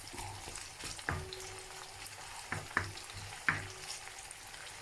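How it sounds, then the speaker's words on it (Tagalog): Onions sautéing in a pan for a coconut-milk chicken dish, giving a steady soft sizzle with intermittent stirring clicks and scrapes, fairly faint and with no talking. "Igigisa lang po natin ng"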